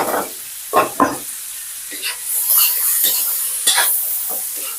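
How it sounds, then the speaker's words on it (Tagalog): Meat for adobo sautéing in margarine in a pan, a steady sizzle with intermittent stirring scrapes and clatters throughout, close and moderately loud. "Gisa natin sa margarine para mabangong mabango."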